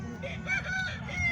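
A chicken or rooster gives a short, faint call close by against a quiet background.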